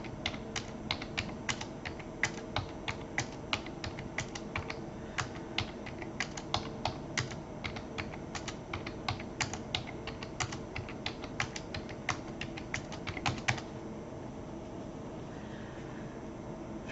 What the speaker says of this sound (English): I'm just going to type over with the new data values